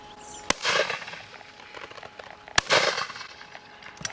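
Two sharp shotgun reports at a partridge shoot drive, about two seconds apart, each followed by a rolling outdoor echo, with no talking.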